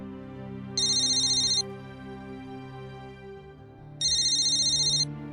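A landline telephone rings in two electronic bursts about a second long, separated by a pause, over a steady background drone.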